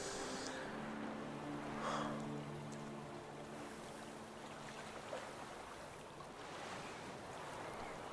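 Waves and water washing steadily near a ruined prison in Witcher 3: Blood and Wine, a continuous surf-like wash with a low sustained ambient hum underneath and no one speaking.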